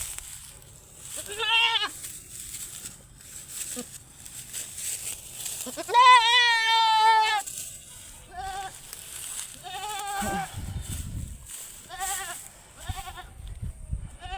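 Several goats bleat on a farm, with wavering, quivering calls near the start and one long, loud bleat in the middle, followed by shorter bleats and rustling toward the end.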